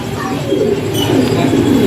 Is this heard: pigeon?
yes